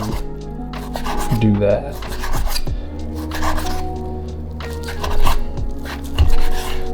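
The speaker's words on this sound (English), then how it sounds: "dicing up some bacon like that here" A knife dicing bacon on a cutting board gives repeated scraping and chopping taps at an uneven pace, with someone talking over it.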